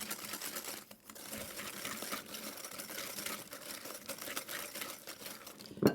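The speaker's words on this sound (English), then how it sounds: "And a little bit of vanilla. Whisk that in." Whisk stirring vanilla into carrot cake batter in a bowl, a faint, steady scraping and rapid tapping rhythm that continues for several seconds, ending with a sharp clink.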